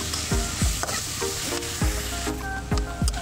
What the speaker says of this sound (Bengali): একবারে প্রথমে পেঁয়াজটা ভালো করে তেলে ভেজে নেওয়া হচ্ছে।